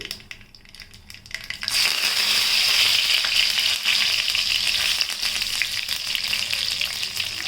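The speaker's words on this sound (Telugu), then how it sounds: "ఆయిల్ వేడైంది కదా సో ఇప్పుడు ఆవాలు అందులోకి వేద్దాం విధంగా ఆవాలు చిట్లుతుంటే" Mustard seeds drop into hot oil for a spicy mango pickle, and after a quiet start a loud, dense crackling and spluttering bursts in and keeps popping steadily close by.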